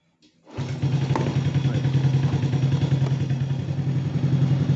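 A Honda Wave 110i motorcycle engine catches after a brief start, then settles into a steady, close idle with an even low putter that runs to the end.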